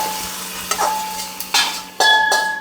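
Mustard seeds frying in hot oil as a tempering for a tamarind curry, giving a steady close sizzle broken by several sharp popping crackles, the loudest bursts arriving near the end.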